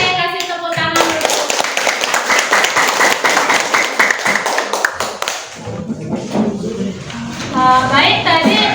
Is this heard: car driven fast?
no